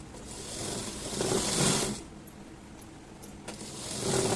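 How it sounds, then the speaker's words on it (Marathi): A sewing machine stitches along the top edge of a garment sleeve, its steady mechanical whir rising and falling in short runs with a few small clicks, close and moderately loud, with no one talking. "अशा पद्धतीने वरच्या बाजूने आपल्याला शिलाई मारून घ्यायची आहे."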